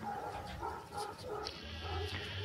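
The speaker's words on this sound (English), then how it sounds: "The dogs are barking like crazy out here." Dogs bark outdoors at night, a few short, repeated barks and yelps at a moderate distance, somewhat muffled under steady background noise.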